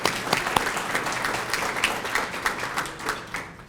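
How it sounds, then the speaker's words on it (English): Audience at a community breakfast meeting applauding steadily, a dense wash of many hands clapping throughout, with no talk. "let's give them a round of applause"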